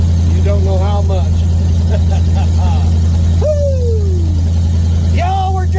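A car being driven, with a steady low engine drone running under the whole stretch while several voices talk and exclaim excitedly over it.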